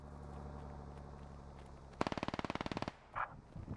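A rapid automatic burst of about fifteen shots strikes the Bulldog vehicle in a video game, preceded by a steady engine drone and followed by a few scattered thuds.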